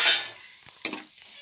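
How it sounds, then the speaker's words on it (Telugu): Coarsely crushed garlic hits a pan of hot oil with a brief burst of sizzling, followed by a quick scrape of stirring, close and short. "ఇది వెల్లుల్లి కచ్చా పచ్చాగా దంచి పెట్టుకున్నాం కదా, ఇది కూడా వేసేసి ఫ్రై కానిద్దాం"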